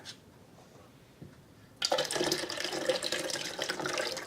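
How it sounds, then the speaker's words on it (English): Milk custard liquid for an egg custard pie is poured into a pitcher: a quiet kitchen at first, then a sudden, steady splashing pour that runs to the end. "I can pour all this milk liquid into the pitcher."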